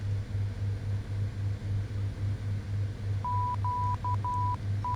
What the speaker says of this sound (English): Let's listen to the Morse code.